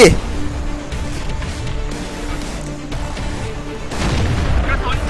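Tank cannon fire in World of Tanks: a loud boom at the start, then scattered distant artillery thuds and battle rumble, with excited live commentary running over the action.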